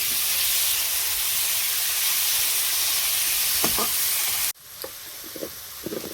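Spice paste (masala) frying in oil in a pan, a loud continuous sizzle with a few stirring scrapes, then abruptly quieter as the pan is covered, leaving a softer hiss with occasional clicks.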